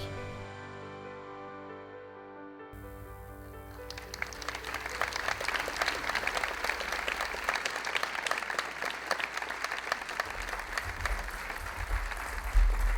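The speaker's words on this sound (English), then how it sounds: "I think that applause was for the video" Audience applause at a business leadership award ceremony: after a few seconds of sustained tones, a large crowd breaks into steady, dense clapping that carries on to the end, moderately loud and slightly distant.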